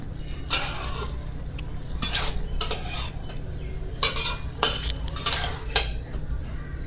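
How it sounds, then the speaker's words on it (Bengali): A spoon stirs jackfruit seeds and bori simmering in a pot, each pass scraping and clinking against the metal sides in irregular bursts over a low steady hum, close and fairly loud with no talking. "আবারও একটু নাড়ি চাড়িয়ে নেব"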